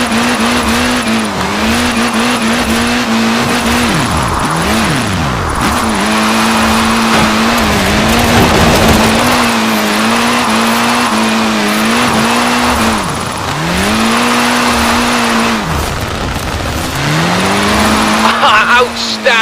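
A car drifting in Forza Horizon 4 at a drift club event, the engine revving hard as tyres squeal in long repeated wails through sweeping turns, loud and continuous with game music underneath.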